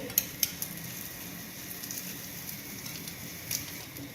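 A mooli paratha fries in desi ghee on a pan with a soft, steady sizzle and a few faint pops and crackles, heard close and alone.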